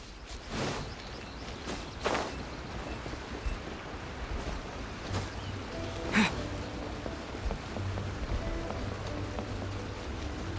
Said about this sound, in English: we waited till it was daytime and raining